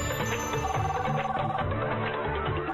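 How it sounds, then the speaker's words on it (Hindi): A telephone rings with an incoming call in an indoor scene. The ringing is steady and repeating, a moderately loud warbling tone that carries through the whole short stretch, with no voices over it. "ये क्या, बॉस का फिर से फोन क्यों आ रहा है?"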